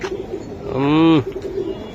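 An aluminium-coloured Afshan baga pigeon lets out a single loud, close, rolling coo lasting about half a second, framed by quieter murmuring from nearby birds.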